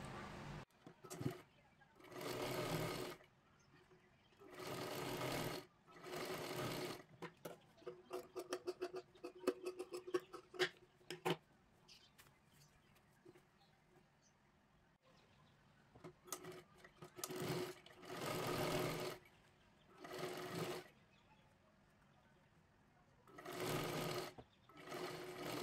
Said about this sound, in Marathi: बघू शकता इथे खालीपर्यंत शिलाई मारून घ्यायची आहे